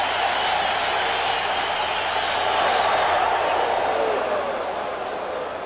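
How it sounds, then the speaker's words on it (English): A baseball stadium crowd roars for pitcher Dwight Gooden during his May 1996 no-hitter, two outs in the fifth inning, a dense, sustained cheer that swells slightly midway and then eases a little. "And you can hear the crowd get behind Dwight Gooden."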